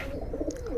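Giribaj racing pigeon giving a soft, brief low coo, close by amid a murmur of background noise.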